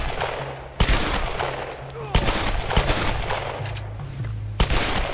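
Gunfire in the video game Tomb Raider Definitive Edition on PS5, a dense run of loud shots with several sharp, heavy reports standing out over continuous rattling fire.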